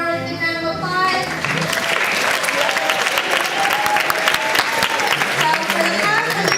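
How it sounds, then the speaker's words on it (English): An audience breaks into applause after a cultural performance, a dense clapping crowd rising in after a brief stretch of tonal sound and continuing steadily, with voices mixed in. "Give my performance a round of applause."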